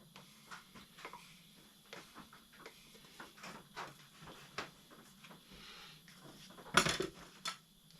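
Paint being stirred by hand in a can while mixing epoxy primer, irregular soft scrapes and clinks of the stir stick against the metal can, close and quiet, with one louder knock near the end.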